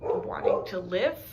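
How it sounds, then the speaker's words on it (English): A dog barks in short yips nearby while a person keeps talking over it. "that's my dog barking"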